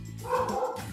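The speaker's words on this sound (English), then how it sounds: "Oh, that's my dog." A single short dog bark or yip rings out close by, brief and fairly loud against a low background hum.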